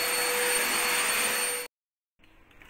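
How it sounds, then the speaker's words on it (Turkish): An electric vacuum cleaner pulls dust from window screens with a loud, steady, close whine that cuts off abruptly, leaving a short silence and then faint room noise. "Elektrikli süpürgenin sesini duyuyorsunuz."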